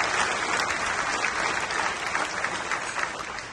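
Sustained applause from a large crowd at the International African American Museum opening in Charleston, South Carolina, dense and even clapping at moderate loudness, fading slightly at the end.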